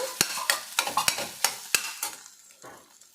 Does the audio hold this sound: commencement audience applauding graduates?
no